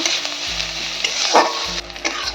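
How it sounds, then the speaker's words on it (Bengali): Chopped onions and green chillies fry in a pan with a steady, close sizzle, broken by scraping stirs and one louder spatter near the middle, with no talk. "সব কিছু দিয়ে আমি ভালো করে ভাজা করে নেব।"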